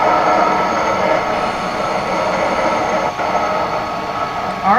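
Freight train rolling along in the Rails Unlimited railway game, a steady rumbling clatter of wagons with a faint metallic squeal near the end, continuous and fairly loud, no voices.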